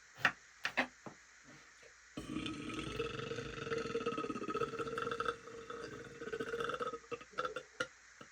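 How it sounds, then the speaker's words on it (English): A loud, drawn-out burp after eating a whole watermelon, rumbling for about three seconds between a few short sharp noises at the start and end. "That was one of the craziest burps I've ever had."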